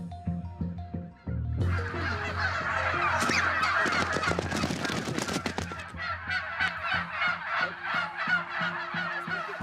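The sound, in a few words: black Bresse turkeys gobbling on a farm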